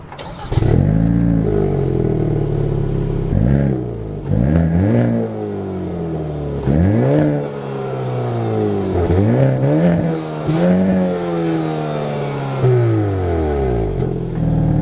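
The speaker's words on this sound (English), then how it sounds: "hit the engine start button, and it roars to life" A 2022 Hyundai Kona N engine fires up and revs repeatedly, rising and falling in pitch with several loud throttle blips, close by and without talk.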